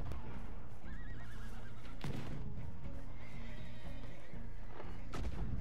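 A horse in a cowboy video game neighs several times amid clopping hooves and a sharp gunshot-like bang, set against a steady busy game soundscape.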